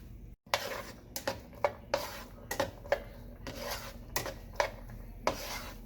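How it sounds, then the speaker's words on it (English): Diced yellow onions sautéing in butter in a pan, stirred with a regular series of scraping and rubbing strokes about every half second, close up and without speech. "1/2 cup of diced yellow onions and saute them"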